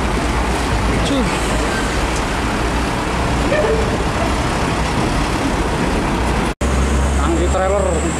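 A tanker trailer truck rolls by on a road in a continuous loud rumble and roar of traffic noise, with a brief voice near the end.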